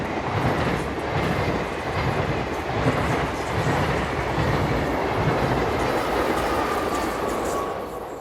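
Swiss Re 460.099 electric locomotive pushing a passenger train from Interlaken northbound, passing with a steady loud rumble and rhythmic wheel clatter on the rails, sustained throughout with no pause.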